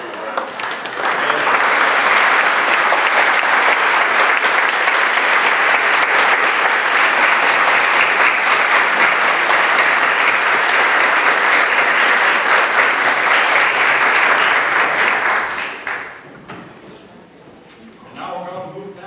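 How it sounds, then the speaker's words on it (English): Audience applause after a candidate's speech at a forum, a loud, sustained burst of many people clapping for about fifteen seconds before dying away, followed by quieter room sound and a brief voice. "can we get another round of applause, please, for Mr. Dodson?"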